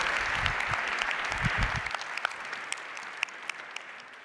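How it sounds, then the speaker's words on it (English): A large crowd at a startup conference founder stage applauds loudly, with a dense, sustained wash of clapping and a few whoops and cheers that fade slightly toward the end. "Let's get a big round of applause."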